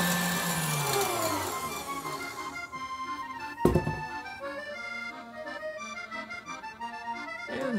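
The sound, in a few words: mixer whipping meringue on high speed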